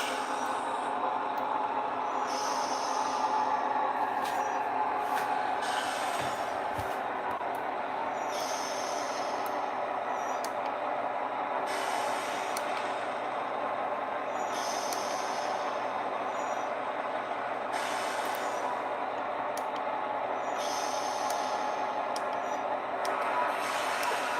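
A model train locomotive on an industrial layout runs after being throttled up, a steady mechanical rumble and hum with recurring hissy bursts, continuous and fairly close, no talking.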